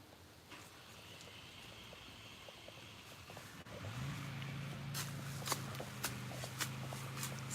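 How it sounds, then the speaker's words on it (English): A gas lawn mower starts up in the background near a garden, its low steady engine drone rising partway through and continuing with faint clicks and rustles over it. "I think somebody's getting ready to mow the lawn."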